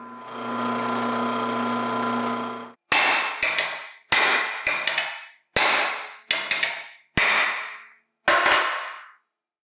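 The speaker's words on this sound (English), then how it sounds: "very simple bends were put in the pieces using a brass hammer and the vise" A brass hammer strikes 3/16 hot-rolled steel flat bar clamped in a vise, eight sharp ringing metallic blows in an uneven rhythm, following a few seconds of a steady humming machine.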